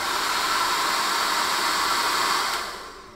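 A Dyson Supersonic hair dryer runs at full speed and top heat, producing a loud, even, close-up rush of air that holds steady, then tapers off as it shuts down.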